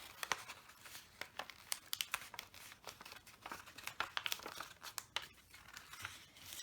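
A paper greeting card for Mother's Day is folded over by hand, giving a run of close, crisp crinkles and sharp crackling snaps that come in irregular bursts, with no talking.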